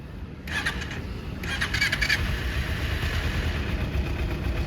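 A motorcycle engine, a Kawasaki Ninja 300 or TVS Apache RR310, starts after a brief quiet moment and settles into a low, steady idle rumble, close by and fairly smooth.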